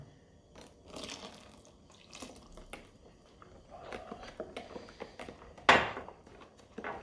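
Milk poured into cake batter in a home kitchen gives a soft, intermittent trickle and drip with faint utensil clatter, then one sharp knock near the end; no one talks.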